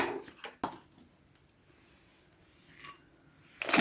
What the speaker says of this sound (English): Just chop them up into slightly smaller chunks.